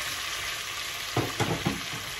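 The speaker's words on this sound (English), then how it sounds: "Stir it up and just let it fry, guys. Just give it a while and let it all fry up." Onions, garlic, tomatoes, red and green peppers and green onions frying in a pot, a steady sizzle broken by three quick stirring scrapes close by, with no voices.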